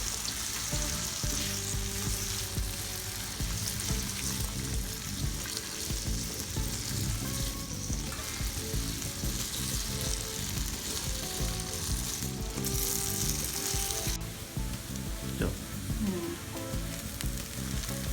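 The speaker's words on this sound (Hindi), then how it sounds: "तो इसको हम डाल देंगे पैन में। इसको फ्राई कर लेंगे।" Sliced potatoes and onions sizzle and fry steadily in a pan for a Spanish omelette, a loud, dense, continuous crackle with occasional stirring scrapes and no talk.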